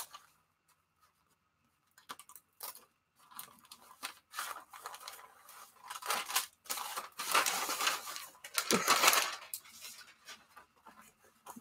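Backing being peeled off a large homemade sticker made from bed sheet fabric, a series of crinkly rustles and tearing scrapes that grow louder and denser toward the end.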